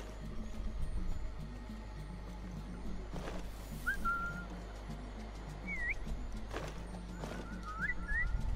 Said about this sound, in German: Ich pfeife hier rum, der merkt das jetzt echt nicht.